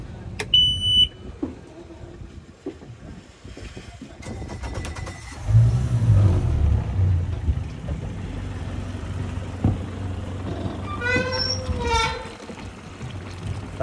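Mercury 115 HP four-stroke outboard motor on an Eclipse 19 boat starts with electronic warning beeps, then settles into a low steady rumble, with brief talk and handling noises around it.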